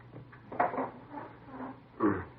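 A door being closed indoors in an office, giving a couple of soft thuds and a latch-like knock heard fairly close, with no talking.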